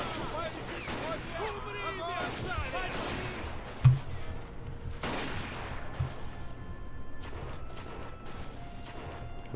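Sniper and battle gunfire in the video game Battle of Empires, scattered shots and a sharp crack standing out over a busy, noisy mix with a voice talking throughout.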